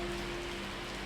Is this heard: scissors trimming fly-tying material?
no